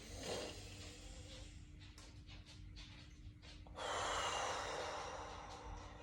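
Deep breathing during a rag doll stretch after hip replacement: a sharp inhale at the start, quieter breaths with a few snort-like puffs, then a long loud exhale rushing out near the end, close and with no talking.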